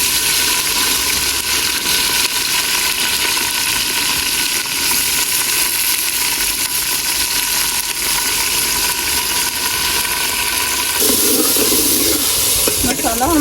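Onions, tomatoes and green chillies fry in a pan, a steady loud sizzle close by that runs throughout, with stirring scrapes and a brief change in tone near the end.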